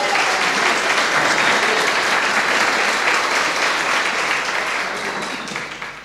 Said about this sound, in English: so a round of applause for him